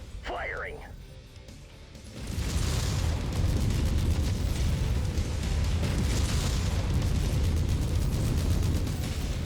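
Mech weapons firing in the MechWarrior 5 video game, a sudden sustained roar of heavy gunfire and rumbling explosions that sets in after a brief radio voice and continues loud and dense.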